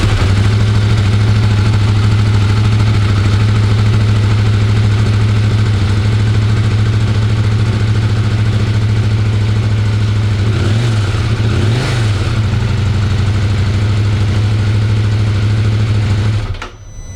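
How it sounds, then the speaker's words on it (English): A KTM 890 Rally motorcycle engine idling after a cold start, a loud, steady, throbbing drone with two brief blips of throttle near eleven and twelve seconds before it cuts off at the end. "let's just fire it up from cold while it's here"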